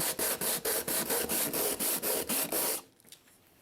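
Coarse sandpaper scrubs a Tapco vertical grip in about a dozen steady, rhythmic strokes, close and fairly loud, with no voices, before the rasping stops and the clip falls quiet.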